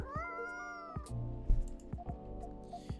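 A cat meows in the café game Coffee Talk 2, several short, clear meows one after another with small pauses between them, close and alone with no talking.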